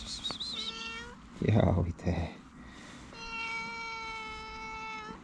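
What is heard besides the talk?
cat meowing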